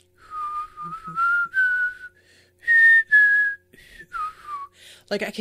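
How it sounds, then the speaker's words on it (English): A person whistles a wavering, breathy tune in short phrases with pauses between, close and fairly loud, ending with a brief rustle. "I have lost the ability to easily whistle"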